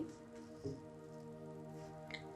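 Honey being mixed into cinnamon powder with a spoon, giving faint, sticky squishing strokes over a low background hum, two small squelches standing out briefly.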